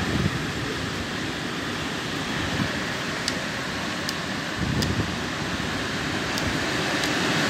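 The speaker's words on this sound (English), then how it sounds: "Listen to that wind." Wind blows steadily outdoors near a spinning windmill, a broad, constant rush that swells slightly at moments, with a few faint high ticks over it.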